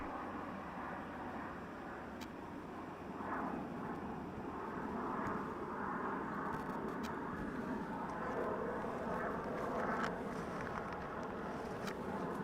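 Boeing 737 MAX airliner arriving at Vancouver International Airport, a faint, distant jet engine rumble and whine that builds gradually and holds steady over several seconds.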